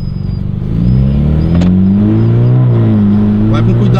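A rear-wheel-drive car pulls away in comfort mode, its engine note climbing and then settling as it gathers speed, loud and close inside the cabin, with voices over it.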